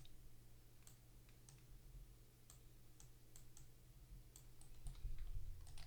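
Sparse keyboard key presses on a computer during digital character design work: scattered single clicks and short bursts, faint and fairly close, over a steady low hum.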